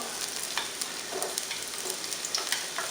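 Ingredients are sautéed in a pan over lowered heat for Kapampangan sipo egg, a continuous close sizzle with soft stirring scrapes and no talking.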